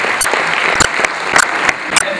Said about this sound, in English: A huge amount of applause for all the Toastmasters members present here